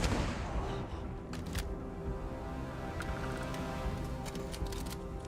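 Gunfire from a high-damage, shotgun-like gun in the video game Starfield, heard as a dense, steady barrage of shots with a few sharper cracks standing out, continuous throughout at moderate volume.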